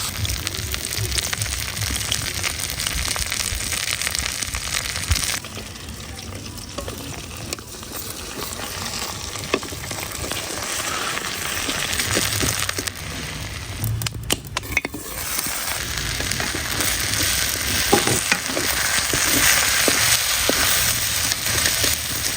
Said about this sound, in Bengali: মাছগুলো এখানে ভাজতে ভাজতে ভাঙিয়ে দেবেন